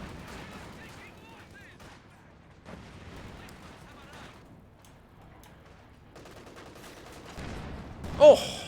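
Gunfire and tank cannon shots in a World War II strategy game, with scattered distant-sounding shots and rumbling bursts spread across the stretch, building to one louder blast near the end.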